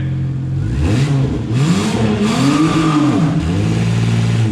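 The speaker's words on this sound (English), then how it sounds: "You need to be revving up while you do it." A car engine revs up and down repeatedly, its pitch rising and falling in loud surges, close by with no talking.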